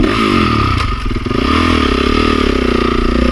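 A hot Honda CRF450R dirt bike engine runs loud and close with a steady, buzzing tone that rises and falls slightly, along with some clattering.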